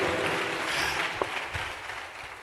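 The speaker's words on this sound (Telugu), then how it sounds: "Clap your hands and give God praise." A church congregation claps in praise, a soft, even patter of many hands at a distance that fades toward the end.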